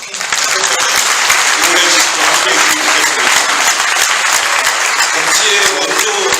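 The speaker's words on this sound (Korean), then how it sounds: "힘찬 박수로 함께" A crowd applauds at a White Cane Day commemorative event for visually impaired people, a loud, sustained burst of many hands clapping close by, with some voices mixed in.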